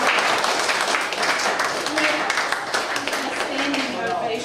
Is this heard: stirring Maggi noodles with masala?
no